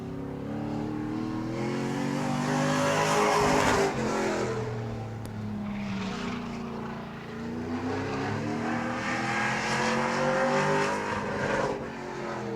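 A single pro racing truck circles a short oval track at Auburndale during qualifying, its engine droning and rising and falling in pitch as it passes through the turns, heard at a moderate distance with no talk.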